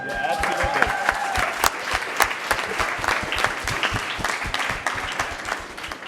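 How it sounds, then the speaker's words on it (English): An audience at an industry workshop discussion panel bursts into applause, close, distinct claps forming a lively uneven patter with some cheering and murmuring voices mixed in. "I think that deserves another round of applause"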